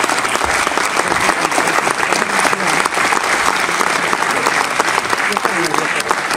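An audience at a charity interview event gives loud, continuous applause for a guest, a thick, steady roar of clapping that holds evenly for several seconds.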